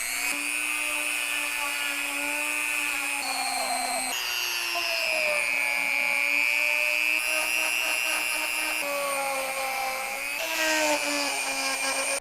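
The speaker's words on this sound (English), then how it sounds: "I'm going to use a Dremel tool. Got a nice small little wire wheel that I think is going to fit down in there" A Dremel rotary tool fitted with a small wire wheel grinds rust off a metal shaft, giving a steady high-pitched whine with slight shifts in pitch as it bears on the metal throughout.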